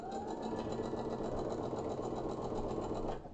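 A sewing machine stitches a 4.5 inch white fabric strip onto a quilt block, a loud, steady rapid mechanical whirr with even rhythmic pulsing that runs for about three seconds before slowing at the end.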